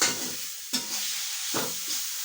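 Food in a pan on a gas stove being stirred after salt is added, two sharp scrapes of a spoon over a constant sizzle and hiss, close by.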